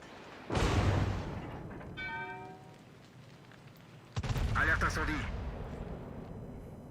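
Naval guns firing high-explosive shells in World of Warships, two loud booming salvos a few seconds apart, each with a long rumbling tail, and a brief ringing tone between them.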